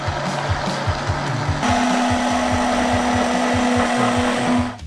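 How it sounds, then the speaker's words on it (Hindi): An immersion blender whirs steadily making mayonnaise, its motor pitch rising partway through, with rhythmic churning pulses as it mixes, then cutting off at the end. "हम ब्लेंडर को नीचे तक डुबोएंगे और इसी तरह बन जाएगा हमारा हैंडमेड मेयोनीज"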